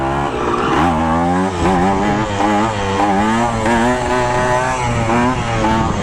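Kawasaki KE100 two-stroke motorcycle engine revving hard during a wheelie, a loud close buzzing whine rising and falling in pitch across several throttle pulses.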